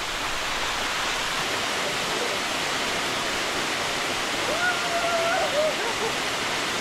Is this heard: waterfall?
yes